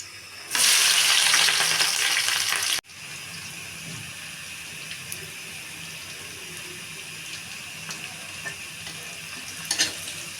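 Garlic, onion and green chili hit hot oil beside a reddened dried chili and burst into a loud, bright sizzle that cuts off abruptly, leaving a softer steady frying hiss with faint clinks and no voices.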